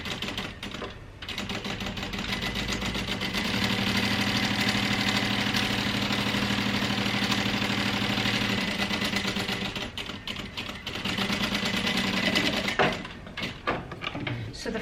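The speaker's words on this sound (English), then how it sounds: "So I'm just going to sew all the way around a 3/8 of an inch seam allowance." A sewing machine stitching around the front flap of a crossbody bag, with a vinyl front and fabric lining, at a 3/8 inch seam allowance: a close, fast, steady mechanical chatter runs for about ten seconds, then breaks into shorter bursts.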